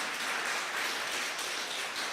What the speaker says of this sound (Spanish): denle un aplauso al Señor si quiere